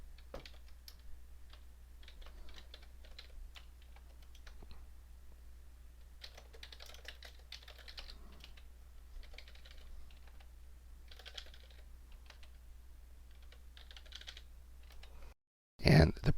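Faint keystrokes on a computer keyboard as a new record is entered into a spreadsheet table, coming in short scattered bursts, ending in a sharp loud noise.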